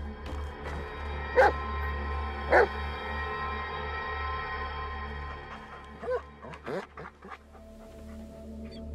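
A dog in the video game Blair Witch gives two sharp barks close by, followed by a few softer yips and whimpers later, over a steady low droning background hum.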